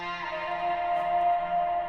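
A pitched acapella vocal turned into an EDM transition filler effect, a sustained, processed tone with echo and a smeared, held pitch, moderately loud and alone.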